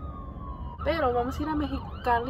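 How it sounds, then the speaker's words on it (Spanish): An ambulance siren passes on a street, a steady wailing tone heard alone at first and then continuing faintly under a voice speaking Spanish. "Ay, la ambulancia."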